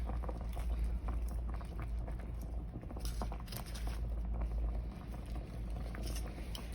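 Steady bubbling and sizzling of gravy boiling in a pan, a continuous low rumble with soft patter throughout, close by, no talking.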